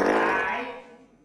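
A comic clown's fart gag, a single loud, drawn-out blat that fades away over about a second, heard alone.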